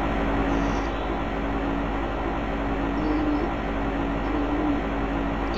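A train rumbles steadily along the tracks, with a continuous droning hum and faint rhythmic clatter, no voices.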